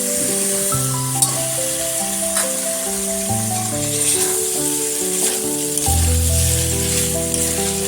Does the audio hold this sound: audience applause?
no